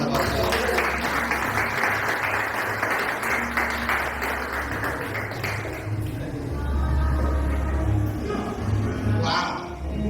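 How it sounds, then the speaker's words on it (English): An audience applauding at a speech event in Jamaica, sustained dense clapping that fills the space for several seconds and then tapers toward a few scattered claps and crowd murmur. "Give them a round of applause."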